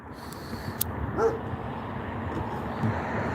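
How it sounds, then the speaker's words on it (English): A puppy gives a few short, faint yips and a brief whimper amid background room noise, scattered across a few seconds rather than in a steady run. "Is that puppy talking to you?"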